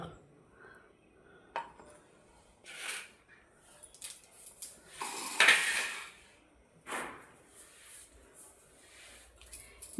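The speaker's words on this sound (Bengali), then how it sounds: "এই দেখুন আমি মিক্সিং জার নিয়ে নিয়েছি এর মধ্যে আমি উপকরণগুলো সব" Ingredients for steamed pointed gourd (potol bhapa) drop one after another into a mixing jar, making scattered clinks and soft knocks, with a brighter rattle in the middle and quiet gaps between.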